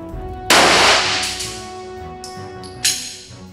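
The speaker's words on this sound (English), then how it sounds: "we're going to go ahead and shoot the 9mm hollow point through 3/4 inch of plywood" A 9mm hollow point round fired through 3/4 inch plywood at an outdoor range, one loud close crack with a long reverberating tail, then a fainter second report, no talk.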